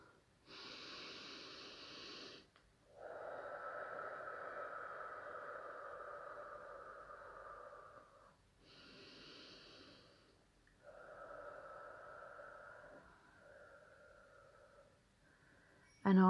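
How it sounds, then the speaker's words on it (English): Slow deep breaths taken close by in a quiet room, two long in-and-out cycles with airy inhales and softer lingering exhales, no talking. "take a few deep breaths"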